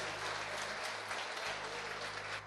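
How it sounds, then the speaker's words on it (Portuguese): Church congregation applauding during a sermon: a steady, dense wash of many hands clapping at once, continuous for the whole stretch with a low hum underneath. "Eu sei que você ensaiou um aplauso aí a Jesus, pode aplaudir"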